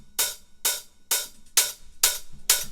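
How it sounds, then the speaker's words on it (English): Open hi-hat sample from a techno drum kit, played dry without a darkening redux effect: six bright, hissy hits with short sizzling tails, spaced evenly in a steady rhythm, loud and close with nothing else playing. "Then we've got this hat here, it's just an open hat, also from our sample pack."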